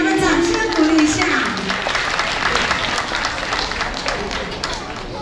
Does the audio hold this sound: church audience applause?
yes